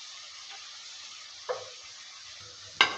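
Fried eggplant and potato being stirred into a cooked spice paste for a kachki fish chorchori, giving a soft steady sizzle with two sharp scraping clinks of the spoon.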